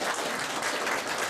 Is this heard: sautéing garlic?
no